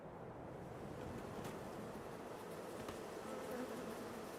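A low, faint, steady buzz of bees around bee houses in the video game Farming Simulator 22, blended with a soft wind-like ambient hum.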